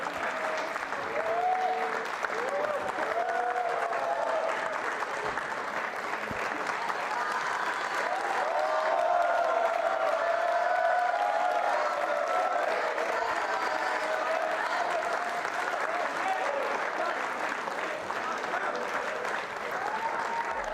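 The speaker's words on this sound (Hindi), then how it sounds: "तालियां बजाइए इस नृत्य प्रस्तुति के लिए आप" Sustained audience applause after a dance performance at a university event, a dense steady clapping crowd at even loudness throughout, with faint background voices and a few brief higher tones mixed in.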